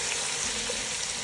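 Onions frying with oil and salt in a pan hiss in a dense, steady sizzle, close and unbroken for a brief moment.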